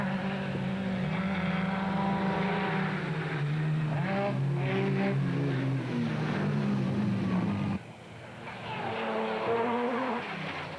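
A rally car racing through the Limpopo bush in a cross country race, its engine revving loudly and shifting pitch as it passes, with a brief drop in level before climbing again.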